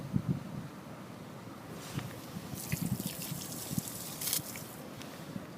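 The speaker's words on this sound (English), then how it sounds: "Just do that 3 times to rinse out the syringe." A syringe draws in and pushes out sample water three times to rinse it, with soft sloshing and trickling close by over a faint outdoor wind.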